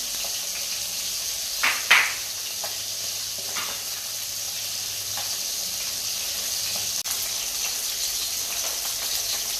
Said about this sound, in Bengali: তো এদিকে আমার মাছ ভাজা হচ্ছে